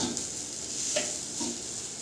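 Bay leaves fry slowly in a pan for basanti pulao, giving a soft, steady sizzle with a few light taps and scrapes of stirring.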